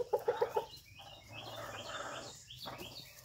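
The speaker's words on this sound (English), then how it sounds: "There's some chicken-on-chicken violence going on here" Backyard chickens squabble, opening with a quick run of four sharp clucks and then agitated squawks and calls continuing over a busy coop background.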